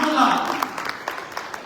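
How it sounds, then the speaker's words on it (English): An audience at a charity fundraising gala claps for a $20,000 donation pledge, a brief burst of applause that trails off into scattered claps, with a voice speaking over it at the start. "big round of applause to Dr. Farha and Dr. Inamah"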